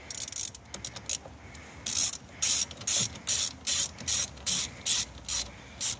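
A ratchet tightens the battery clamp on a Ford Mondeo Mk4, producing a loud close run of rhythmic metallic clicking bursts, steady strokes repeating about twice a second with brief pauses between.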